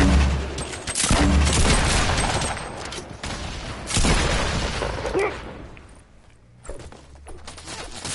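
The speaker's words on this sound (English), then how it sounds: "Grenade launcher." Grenade launcher explosions in the Fortnite video game, a dense run of booming blasts and gunfire at the start, another burst around the middle, then fading to quieter rumbles with a faint late hit.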